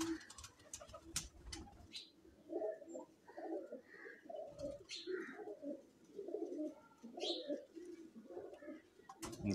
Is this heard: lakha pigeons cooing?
yes